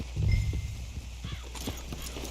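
Horse hooves clip-clopping at close range in Red Dead Redemption 2, with a heavy thud of steps at the start, then a brief whinny among the steady hoofbeats.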